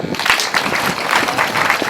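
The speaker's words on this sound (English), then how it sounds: "Can we clap for them?" A school audience at a prefects handover party claps together in a brief, dense burst of applause, fairly close and steady throughout.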